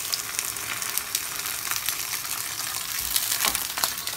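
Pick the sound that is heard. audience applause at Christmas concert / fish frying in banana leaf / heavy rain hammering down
fish frying in banana leaf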